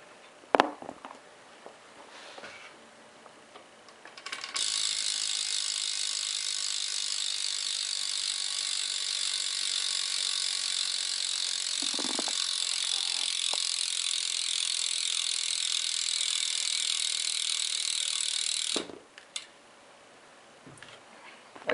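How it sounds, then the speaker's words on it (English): A Fit BMX bike's rear hub ratchets in a fast, steady clicking buzz for about fourteen seconds as the wheel spins freely, close and loud, with quieter handling noises before and after. "That's if you want to hear the hub, just hold on."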